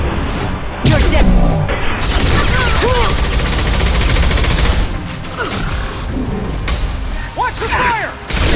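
Sustained automatic gunfire and bursts in a sci-fi firefight from the video game Mass Effect 2, dense and continuous with booms, whooshes and electronic squad chatter throughout.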